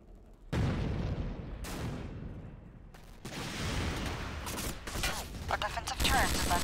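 Gunfire and explosions from an attack on a base in the video game Empires Mod, several sharp loud bursts and booms with decaying echoes, spread irregularly across the moment.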